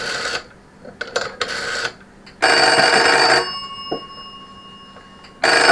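An old-fashioned telephone bell on a restored Telephone 746 rings in short bursts, with a long jangling ring followed by a ringing tone fading out, then another burst.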